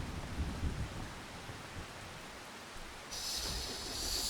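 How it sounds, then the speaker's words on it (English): Steady rain falls in the farming game Farming Simulator 25, a dense continuous hiss that holds throughout, brightening into a sharper, louder wash near the end. "So it's gonna rain all day till 8 o'clock tonight."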